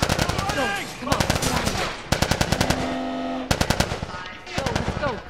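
Rapid machine-gun bursts from The Last of Us Remastered rattle loud and close in several separate volleys, with shouted voices in the thick of the firefight between them.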